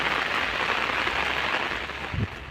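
Steady rain hissing down on surfaces, a dense even patter with a low rumble underneath, no voices.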